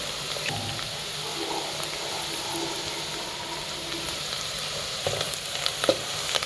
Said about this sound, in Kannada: ಈ ರೀತಿಯಾಗಿ ಚೆನ್ನಾಗಿ ಈರುಳ್ಳಿ ಮತ್ತು ಮೆಣಸಿಕಾಯನ್ನು ಎಣ್ಣೆಯಲ್ಲಿ ಮಿಕ್ಸ್ ಮಾಡಬೇಕು